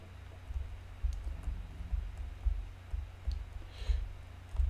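Soft, repeated clicks of computer keyboard directional keys being pressed while moving a character in a game, a steady run of light taps close by with no talk.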